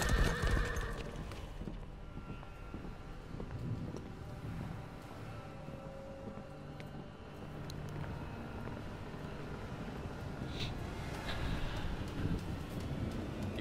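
Horses gallop in a Mortal Kombat X cutscene as characters ride, with steady clip-clop hoofbeats, a loud neigh and whinnies over a windy rumble, continuous and close, with no talking.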